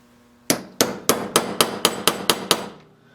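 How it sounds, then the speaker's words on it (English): A ball peen hammer striking a punch to mash over a rivet-like pin on a small steam engine build, nine close, sharp metallic blows in a quick, slightly accelerating series, each ringing briefly. "ball peen hammer, and we will mash that over"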